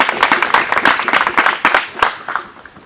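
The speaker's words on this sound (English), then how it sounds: "Can we clap for Stromme Foundation and Rise West Nile?" An audience claps for the Stromme Foundation at a school classroom handover ceremony in Obongi, a dense spread of many sharp hand claps that swells and then thins out after a few seconds, with no talking over it.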